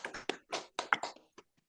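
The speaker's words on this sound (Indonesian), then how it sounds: "Tepuk tangan dulu untuk kita semua." A small group in a classroom gives a short round of hand claps, a few quiet, uneven bursts that taper off into scattered single claps.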